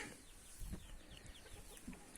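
Cochin bantam chickens being let out of their coop give a few soft, scattered clucks, faint and some distance off in a quiet yard.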